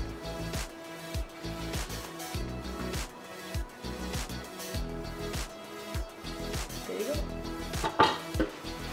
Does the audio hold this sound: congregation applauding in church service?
no